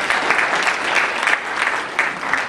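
Sustained applause from an audience at a disabilities symposium, many hands clapping at once in a thick, even wash with light cheering mixed in.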